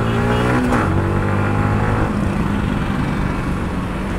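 A car driving erratically past on a narrow two-way road near Getalsud dam in the evening: a loud, close engine whine that drops in pitch as it goes by, then fades into steady road rumble.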